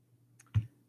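A few soft key presses on a calculator keypad while entering a fraction calculation, heard as separate muffled taps over a low steady hum in a quiet room.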